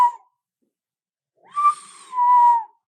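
A person whistles a few brief tones indoors, starting with a short note and then a longer sliding note, close and fairly loud with silence between.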